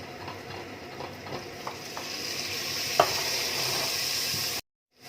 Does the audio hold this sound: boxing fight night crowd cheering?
no